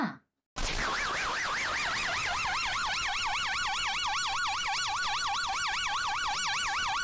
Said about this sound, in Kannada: ಒಂದ್ ಜೋರಾಗಿ ಒಂದ್ ಸೈರನ್ ಆನ್ ಮಾಡೋಣ